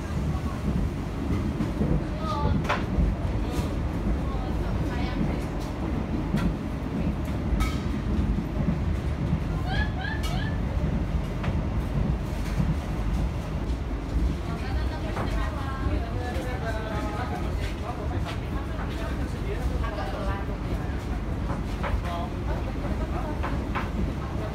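Steady low rumble of the Argo Bromo Anggrek passenger train moving along the rails, heard from inside its dining car, with a continuous rolling din and faint rhythmic clatter while people talk throughout.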